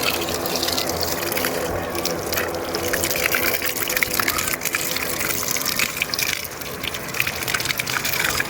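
Water runs steadily while tomato plants and seedlings in a home garden are watered, a continuous close rushing gush with no pauses across the whole stretch.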